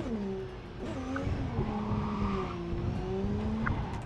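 An off-road car drifts in Cyberpunk 2077, its tires squealing in long wavering whines that rise and fall over a steady engine rumble, fairly close and without talk.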